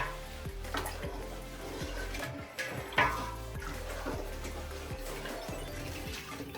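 Homemade toddy mixture is stirred in a pot, giving soft, repeated liquid swishes and faint scraping in a steady rhythm, close and quiet.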